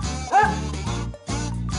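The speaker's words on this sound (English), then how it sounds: "I will bark." A dog gives two drawn-out, tonal barks or woofs, close and fairly loud, separated by a short pause.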